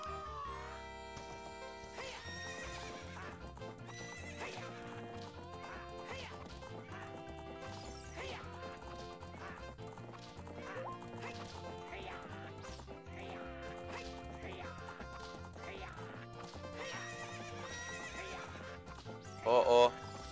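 Epona the horse neighing and galloping in The Legend of Zelda: Ocarina of Time, a whinny and clip-clop hooves mixed under constant game music, with a louder burst near the end.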